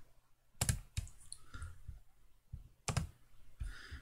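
Sharp computer mouse clicks, a handful spaced irregularly, sound close and clear while sketch geometry is drawn in FreeCAD, with no speech over them.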